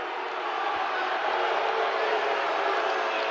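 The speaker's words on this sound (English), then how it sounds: "Crowd doesn't like it." Basketball arena crowd disapproving of an offensive foul call: a sustained, broad wash of booing and murmuring voices from a large audience, steady and fairly loud throughout with no clear breaks.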